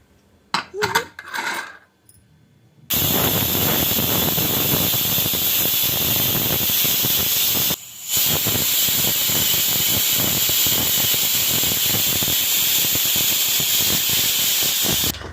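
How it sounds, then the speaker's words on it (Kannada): Pressure cooker on the stove cooking rasam lets out a loud, continuous whistling hiss of steam that runs almost unbroken for about twelve seconds with one brief gap, after some short clatter at the start. "ಕುಕ್ಕರ್ನ ಮುಚ್ಚಿ ಎರಡು ವಿಜಲ್ ಕೂಗಿಸ್ಕೊತಾ ಇದ್ದೀನಿ"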